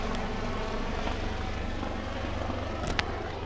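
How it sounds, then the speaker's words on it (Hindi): A helicopter passing overhead above a hilltop temple area in Uttarakhand, a steady droning rotor and engine rumble that holds throughout without speech. "ये देखिए भाई हेलीकॉप्टर जा रहा है ऊपर"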